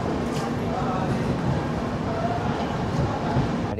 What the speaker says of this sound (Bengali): কিষানগঞ্জ স্টেশন থেকে এখন আমাদের গাড়ি ছেড়ে দিল।